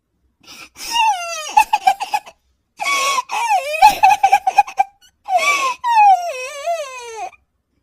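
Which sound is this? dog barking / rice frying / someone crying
someone crying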